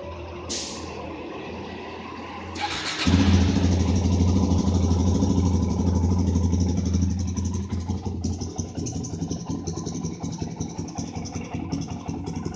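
A Kawasaki dirt bike engine started without choke: a brief starter whir, then the engine catches with a loud burst and settles into a steady, close idle with a slightly uneven putter.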